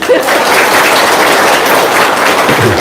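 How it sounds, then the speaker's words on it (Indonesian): An audience at an indoor gathering applauds in a steady, dense wash of clapping that holds at an even level throughout, with no voices standing out. "Tepuk tangan dong"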